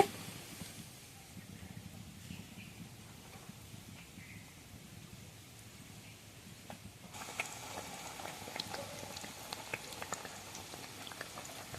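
Khaja sweets frying in a pan of oil over low heat give a steady, soft bubbling hiss that grows louder and crisper partway through and continues to the end.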